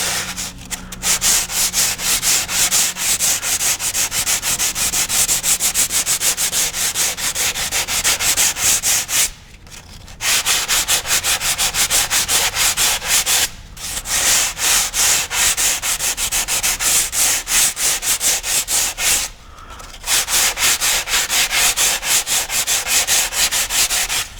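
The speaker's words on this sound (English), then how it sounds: "we want to sand out around the edges of the repair" Sandpaper rubs steadily over glazing putty on a hole repair in a racing shell hull, loud close strokes running continuously with three brief pauses.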